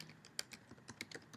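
Fingers tap out an email address on a computer keyboard, a quick irregular run of light clicks with one sharper stroke, close and fairly quiet with no talking.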